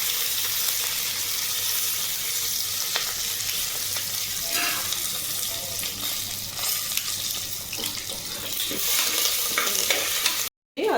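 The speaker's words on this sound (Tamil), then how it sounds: "இப்போ கருவேப்பிலையும் போட்டுக்கலாம்." Curry leaves and cut chillies fry in hot oil for upma in a home kitchen, giving a steady, close sizzle with stirring noises and some running-water sounds, no talking, and a brief dropout near the end.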